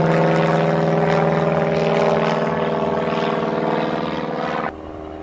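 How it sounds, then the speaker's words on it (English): Loud, steady whirring of a landed helicopter's rotors and engine close by while it refuels, a pulsing drone that eases slightly before dropping off near the end. "Looks like a helicopter landed and is getting some fuel."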